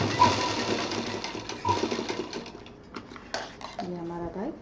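A sewing machine double-stitches a fabric bag in short uneven bursts with clicks and handling clatter, while a voice talks over it.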